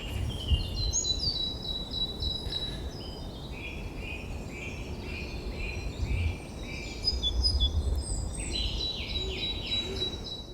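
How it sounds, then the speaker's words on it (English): Amid a dawn chorus, a great tit gives its two-note metallic call in repeated bursts, with other birdsong layered around it at mid distance and a low background rumble. "We've also got a great tit, that's a two-note metallic D, D, D, D, that's a great tit."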